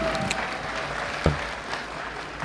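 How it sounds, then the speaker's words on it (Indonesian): Crowd at an Indonesian political gathering clapping steadily, a continuous mid-level patter with one sharp knock near the middle. "kita tepuk tangan."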